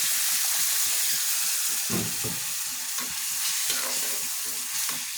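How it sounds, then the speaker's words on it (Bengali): Broth is poured into potatoes and bitter gourd frying in a pan, setting off a loud, continuous sizzle and hiss of steam with stirring scrapes running throughout, up close. "এখন আমি সামান্য পরিমাণ ঝোল দিয়ে দিব"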